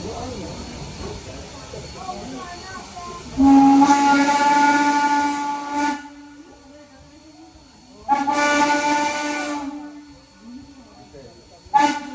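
A steam whistle on a 1930s-era Strasburg Rail Road excursion train blows two long, loud hoots several seconds apart, with a hissing tail and a faint answering whistle, over murmuring voices.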